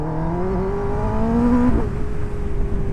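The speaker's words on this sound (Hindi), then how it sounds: "right now if I decide to accelerate my bike" A motorbike engine revs up with a rising, close, loud drone, then drops abruptly in pitch as it shifts gear and pulls on steadily.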